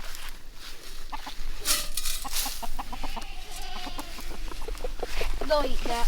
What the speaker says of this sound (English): That's the rooster you guys always hear in the background of our videos.